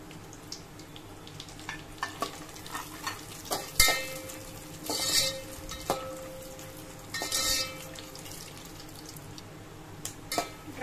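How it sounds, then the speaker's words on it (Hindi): Dry fruits frying in a pan with black pepper, cloves and cardamom, giving a steady sizzle with scattered stirring clatters and a few louder scrapes, close by with no talk. "उसी के साथ ड्राई फ्रूट में फ्राई कर लूंगी।"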